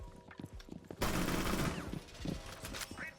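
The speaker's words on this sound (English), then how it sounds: "That's definitely a LMG." A light machine gun fires a sustained burst for about two seconds in Rainbow Six Siege, loud and dense after some quieter in-game sounds.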